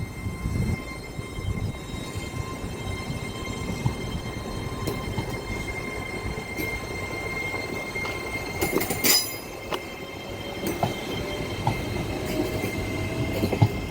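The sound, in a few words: train crawling into Manors Station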